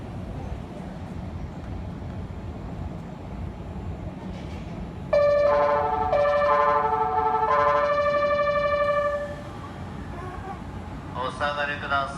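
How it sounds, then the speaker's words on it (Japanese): JR East E655 series train leaving a station platform as an out-of-service run, a steady rumble joined midway by a loud melodic horn-like tone lasting several seconds, then subsiding to background noise with faint sounds at the end. "3番線回送列車が発車をいたします。"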